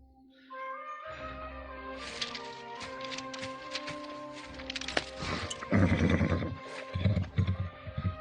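A horse neighs and whinnies amid a busy, loud mix of other sounds, with a burst of louder rumbling activity toward the end.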